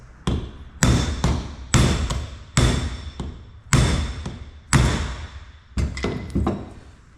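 Loud metallic hammer strikes drive out an inner engine seal and cup on a Cummins, landing one after another in a steady rhythm, about ten sharp blows with ringing decay, the last few coming quicker.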